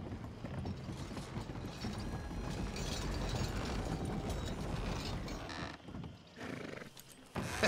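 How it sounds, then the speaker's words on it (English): A horse in Red Dead Redemption 2 whinnies and clops along amid steady mechanical ratcheting and creaking, a continuous busy bed of game sound with no talking. "The horse is like a swift one"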